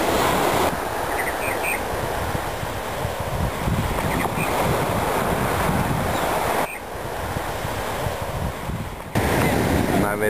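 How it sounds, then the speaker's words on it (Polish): Gentle waves wash steadily onto a quiet Caribbean beach on Canouan Island, a constant soft surf with breezy wind noise and no talking. "Cicho, spokojnie, tylko falka malutka dociera"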